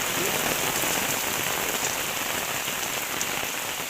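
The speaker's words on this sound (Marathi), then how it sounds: "पावसान भरपूर मोठा पाऊस आला" Heavy rain pours down in a dense, constant roar, loud and unbroken for the whole stretch.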